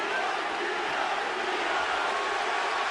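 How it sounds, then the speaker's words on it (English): A boxing arena crowd roars and chants for Bernard Hopkins during his 2008 fight against Kelly Pavlik, a steady, dense wash of massed voices at a distance with no clear rhythm standing out. "And the crowd is chanting, B-hop, B-hop."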